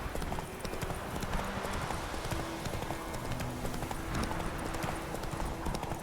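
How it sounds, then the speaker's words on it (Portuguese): A horse gallops in The Witcher 3 video game, its hooves clip-clopping in a steady, fast rhythm from start to finish, loud and close over a constant game background. "o cavalo desse jogo é muito satisfatório"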